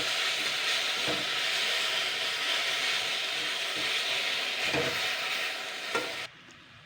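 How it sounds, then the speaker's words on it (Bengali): Ivy gourd leaves being stirred in a hot pan with salt, sugar and turmeric, a close, steady frying sizzle broken by a few soft scraping stirs before cutting off near the end. "এবার আমি এতে সামান্য একটু নুন, চিনি আর সামান্য একটু হলুদ গুঁড়ো দিয়ে দিচ্ছি এটাকে আমি এবার ভালো করে নাড়াচাড়া করে নেব।"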